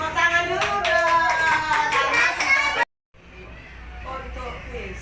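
Kindergarten children clap their hands in quick rhythmic bursts amid lively young voices, filling a classroom before a sudden cut, after which softer clapping and chatter carry on more faintly.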